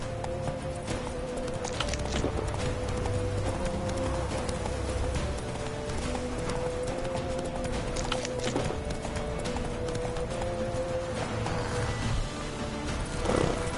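Roach, a horse in the video game The Witcher 3, gallops with steady, rapid clip-clop hoofbeats under a continuous game soundtrack, with a brief whinny-like rise near the end.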